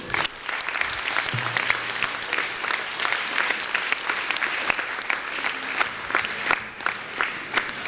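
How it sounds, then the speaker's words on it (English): A crowd claps steadily for several seconds at a girls' school end-of-term event, dense and sustained applause filling the room without letting up. "They deserve an applause."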